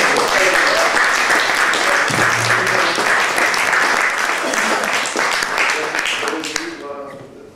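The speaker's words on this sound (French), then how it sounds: "Je vous demande de les applaudir" An audience at an Antoine de Saint-Exupéry tribute applauds at length, a thick, even wash of clapping that thins out at the close as a voice begins speaking over it.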